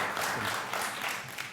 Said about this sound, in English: Please hold off on the applause.